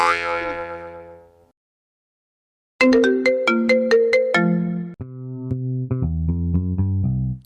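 A phone ringtone plays loudly as a bright electronic melody, a first burst fading out, then a pause, then a longer run of stepping synth notes descending in pitch, with no voices.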